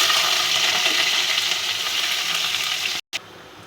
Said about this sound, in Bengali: আর উচ্ছেগুলো ভেজে নেব।